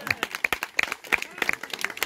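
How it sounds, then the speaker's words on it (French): Scattered, uneven hand claps from an audience at a live stage magic show, sounding like a modest group clapping rather than a full roar, with sharp separate claps repeating over about two seconds. "On peut les applaudir très fort, s'il vous plaît."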